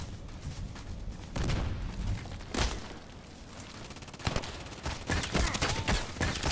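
A grenade goes off in the Contract Wars shooter amid ongoing gunfire, with several sharp blasts and bursts spread across the stretch, fairly close and punchy.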